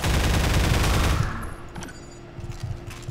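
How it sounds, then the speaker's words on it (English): Automated turrets fire rapid bursts in Half-Life 2, a loud, dense stream of gunfire for about a second before it cuts off. Fainter scattered shots and game noise follow. "I hear turrets"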